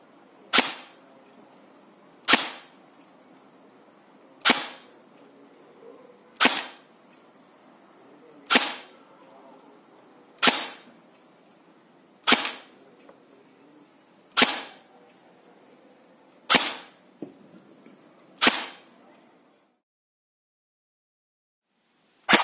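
Ten single shots from an E&L ELAKS74UN-C Platinum airsoft replica rifle during test firing, each a sharp, fairly loud crack spaced about two seconds apart, with a quiet background and no talking.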